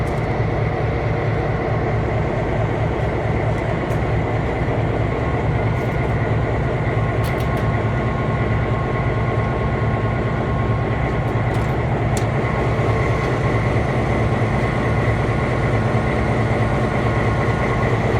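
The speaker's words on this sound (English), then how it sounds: "This is the air compressor, big 3-cylinder air compressor." A big three-cylinder locomotive air compressor runs steadily, a loud, constant mechanical chugging hum with a rhythmic pulse and no voices.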